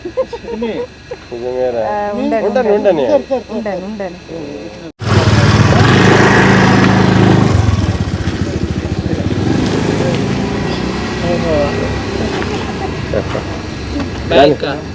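People talk briefly, then a motorcycle engine roars to life and runs loudly and steadily, revving as it pulls away.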